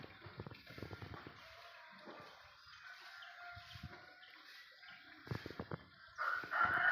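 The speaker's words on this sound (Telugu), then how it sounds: "కోడి చూసారా" A chicken clucks and calls outside a house on a snowy day, heard in short bursts separated by quiet gaps, growing louder and busier toward the end.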